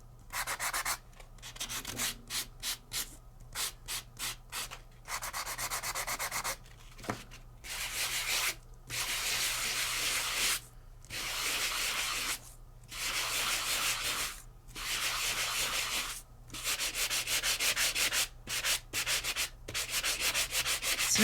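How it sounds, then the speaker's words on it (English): Repeated rough scratching strokes of sandpaper rubbing against paper edges, in rhythmic bursts separated by short pauses, close and steady. "So now I'm just sanding some of the edge"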